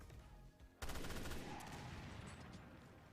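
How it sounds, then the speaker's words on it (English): Burst rifle gunfire in Resident Evil Revelations 2 raid mode, rapid loud shots with a sharp onset, then a dense run of bursts and clatter that carries on without talk. "so I'm using my burst rifle"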